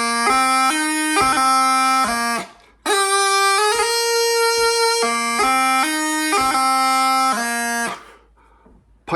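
Highland bagpipe playing the opening two bars of the tune Heroes of the Hook, a bright chanter melody over a constant drone with crisp grace-note articulations, loud and close, with a short break before it trails off.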